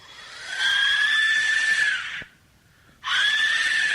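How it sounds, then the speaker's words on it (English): An Aztec death whistle lets out two loud, harsh, scream-like blasts, the first held for about two seconds, then a brief silence before the second. "let's take a listen to the death whistle."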